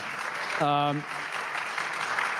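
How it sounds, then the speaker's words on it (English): An audience at a film industry debate claps in a continuous, even patter, with a brief voice standing out over it early on. "Let's clap for that"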